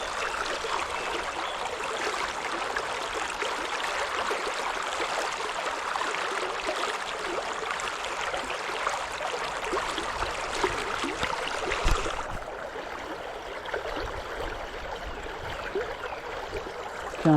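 A fishing river rushes steadily over a shallow point, a continuous broadband wash of flowing water that stays even and fairly close throughout, easing slightly in the last few seconds.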